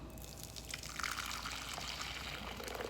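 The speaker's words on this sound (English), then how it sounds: "So I'm going to pour it in that bowl right there." Blended creamy tomato basil soup is poured into a bowl, producing a soft, continuous liquid trickle and splashing with small drips that stays fairly quiet and close throughout.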